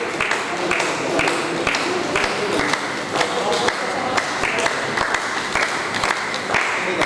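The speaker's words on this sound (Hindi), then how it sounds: "जोर से ताली मार दीजिए प्लीज।" Audience applause at a handing-over program, sustained dense clapping throughout at steady loudness, with voices mixed in underneath.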